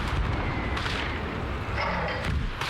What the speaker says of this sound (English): So you guys listen to some of the mortar fall.